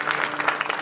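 A brief burst of crowd clapping at a religious recitation gathering, many hands beating in quick, uneven patters, fairly close and filling the short moment.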